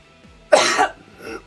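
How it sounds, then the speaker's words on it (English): A single streamer's cough bursts out loud and close, followed by a softer throat-clearing rasp, with no talk around it. "Sorry, I had a cough there."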